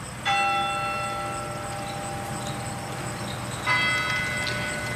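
A bell rings twice, each strike a clear metallic toll with a long ringing decay, over a soft background hiss.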